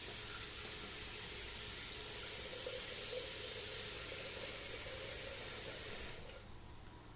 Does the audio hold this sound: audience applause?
no